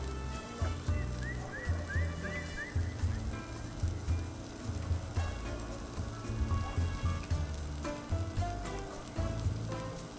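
Onions caramelizing on a 22-inch Blackstone griddle, a steady crackling sizzle with rain-like patter, fairly faint, and a low rhythmic thumping underneath.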